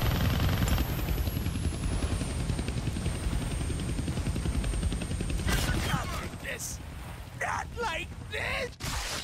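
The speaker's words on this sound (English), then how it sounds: "Damn, they found the helicopter's on switch." A helicopter in the Deadpool PS4 video game roars with a steady, loud rotor drone, joined later by bursts of gunfire and game sound effects, with characters talking over the noise.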